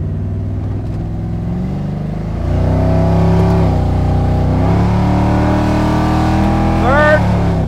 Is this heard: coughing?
no